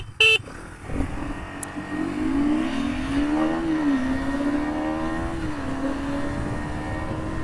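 KTM Duke 250 and RS 200 motorcycles rev at the start of a roadside drag race in traffic, a steady close engine drone rising and falling in pitch after a brief sharp knock, with no voices.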